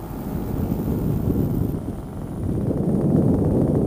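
An Air Conception Delta 200 Nitro paramotor engine running at idle, a steady low droning rumble close by with slight wavering and a rough, wind-buffeted texture, no talking over it.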